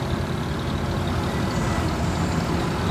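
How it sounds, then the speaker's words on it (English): A Green Goddess fire engine with a big six-cylinder petrol engine pulls in at a steam rally, a continuous heavy engine rumble at close range, steady and unbroken with no voices. "Oh, we just got the Green Goddess coming in. Big 6-cylinder petrol engine in those as well."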